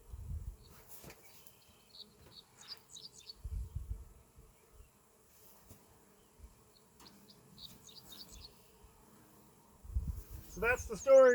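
Honeybees around a busy hive in early summer, a faint intermittent buzzing of individual bees passing close, mixed with low handling thumps, brief chirps and some rustling.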